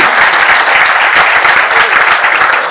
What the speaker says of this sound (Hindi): तो एक बार अपने लिए जोरदार ताली